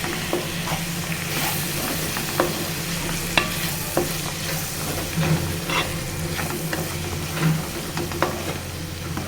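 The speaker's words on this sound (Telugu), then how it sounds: "ఇప్పుడు అల్లం వెల్లుల్లి పేస్ట్ వేసుకోవాలండి." Ginger garlic paste fries in a pan for a Telangana-style green peas and tomato curry, with a steady sizzle and repeated scrapes and taps of stirring.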